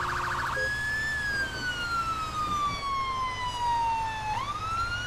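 A single London Fire Brigade siren in GTA 5 wails steadily, its pitch gliding slowly downward before sweeping back up, loud and clear over a low engine rumble.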